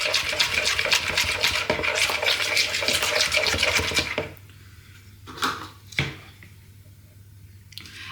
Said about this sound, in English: add in some garlic puree as well, or you can chop yourself a couple of cloves of garlic if you prefer. Mix that in as well.